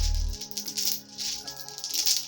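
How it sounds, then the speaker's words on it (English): Beads on beaded braids rattle and clack together in a continuous loose, dry shaking, close to the listener with no speech. "Yes, my beaded braids. As you can all hear the sound."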